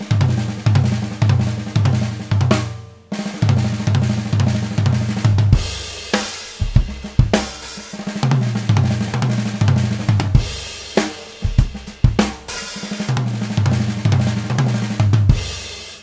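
A drum is played with single strokes broken up by quick double stroke rolls, in a steady repeating rhythmic pattern with occasional crashing cymbal-like bursts, fairly close and loud, with no talking.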